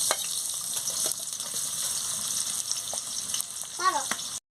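Chopped onion and green chillies fry in hot oil in a village kitchen, a continuous close sizzle with a few light stirring clicks and no voices.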